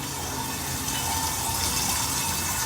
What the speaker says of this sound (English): So you're going to fill this up with water.